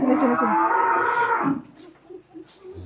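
A cow, a sacrificial Qurban bull at a cattle farm, gives one long, loud, close moo that fades out, followed by quieter farm background.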